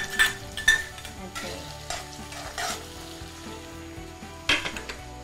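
Finely chopped ginger and green chillies fry in a pan with a continuous sizzle, while a spoon stirs and clinks against the pan in a few sharp taps near the start and the end.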